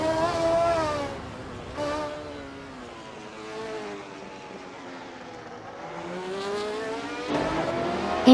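Renault Alpine 442B race car from 1977 in a racing video game, its engine droning and shifting pitch steadily as it revs and eases off, with a brief surge near the end.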